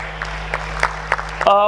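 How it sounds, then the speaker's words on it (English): A handful of scattered, separate claps sound in a large hall for surgical fellowship candidates over a steady electrical hum, then a voice comes in at the end. "Big round of applause for them"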